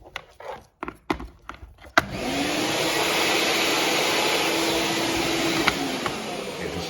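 A Hoover vacuum cleaner, newly fitted with a block connector, switches on after a few knocks and then runs loud and steady with a constant whine, close by.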